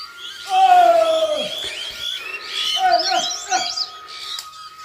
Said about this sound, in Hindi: और यहाँ पे कुछ तोते दिख गए मेरे को